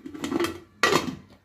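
A metal lid set onto a cooking pot of soaking ullundhu kanji with water, giving a sharp clattering clank after a softer scrape, close and alone.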